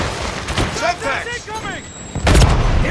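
A Semtex grenade goes off in an online shooter match: a sharp, heavy blast bursts in near the end, loud and close, after a stretch of game callouts and voices.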